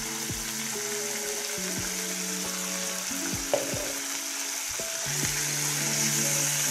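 Chicken pieces frying in a pan with chili powder for shawarma: a steady sizzling hiss under faint clinks and tonal hums, with one sharp tap, no talking.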